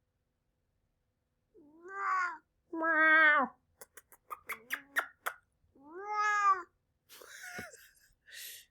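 A 19-year-old pet cat meows several times up close, drawn-out rising and falling cries between short gaps, with a brief spoken exclamation and some rustling in between.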